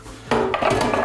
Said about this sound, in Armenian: Ծածկենք կափարիչով, թող